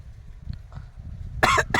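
A man coughs twice in quick succession, loud and close, after a moment of faint background noise.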